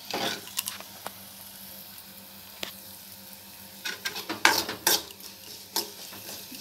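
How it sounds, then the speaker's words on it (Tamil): Asafoetida and spices fry quietly in a pan with a soft sizzle, punctuated by scattered clinks and scrapes of a utensil stirring, growing busier toward the end. "கொஞ்சம் பெருங்காயம் நல்லா பொரிஞ்சி வந்துடும் அழகாக"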